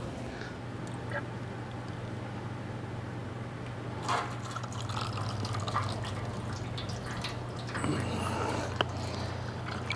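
Fork oil poured into a WP 6500 motorcycle fork, a steady liquid gurgle and drip over a constant low workshop hum, with a couple of brief louder surges.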